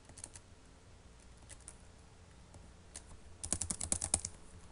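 Someone types code on a computer keyboard: a few scattered soft key taps, then a quick burst of close, quiet clicks near the end.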